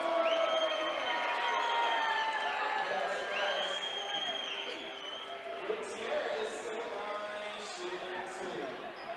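High school basketball home crowd in a gym reacting to a foul call, a rumble of voices, whistles and shouts swelling and fading at moderate distance, with a commentator talking over it.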